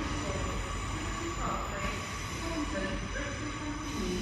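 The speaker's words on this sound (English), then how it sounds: "another Sunday evening session of trains at Exeter St David's" A train rumbles through Exeter St David's station on the Great Western Main Line, sounding loud and close. A heavy continuous roar carries faint wheel squeal and hum.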